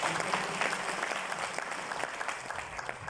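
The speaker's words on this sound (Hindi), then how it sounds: "इनके लिए एक जोरदार तालियां।" A large audience at a DXN company event breaks into dense, sustained applause for an honoured couple, steady and fairly distant throughout.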